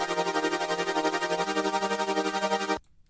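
Sustained synth chords chopped by a Gross Beat effect into a rapid, pulsing volume rhythm, steady and loud, then cutting off abruptly into near silence at the end.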